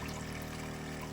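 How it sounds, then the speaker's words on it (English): A running water pump moves dirty water through an off-grid setup, a steady close wash of flowing, trickling water holding an even level with no break and no voices. "pump is running"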